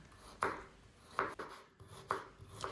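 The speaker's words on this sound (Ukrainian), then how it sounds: "Беру 4 середніх морквини та нарізаю колечками." A knife cuts carrots into rings on a board with four quiet, evenly spaced chopping strokes, each a short, close thud with a faint scrape between cuts.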